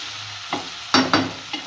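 Okra with green chillies and tomatoes fries in a pan under a constant sizzle, with a few short scraping stirs up close.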